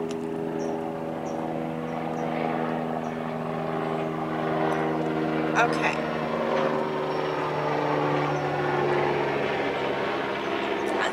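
A propeller airplane drones overhead, a steady loud low hum with layered engine tones that holds throughout, while a voice says a single short word.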